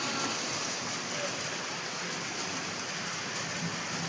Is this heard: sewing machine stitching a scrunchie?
no